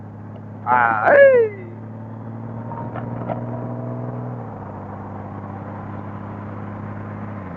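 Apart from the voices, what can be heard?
rumble of a 2025 Honda motorcycle engine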